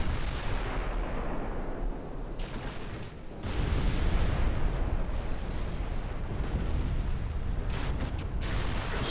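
A ship explodes in a naval battle video game, a loud sustained rumbling blast with a deep roar that swells again after a brief lull, continuing as heavy booming noise throughout, no talking.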